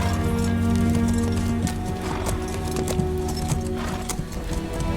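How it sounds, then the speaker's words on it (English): A horse trots in an animated pirate tale, its hooves clip-clopping in a steady, moderately loud rhythm over a continuous musical score for the whole stretch. "I trotted unhurriedly to avoid suspicion."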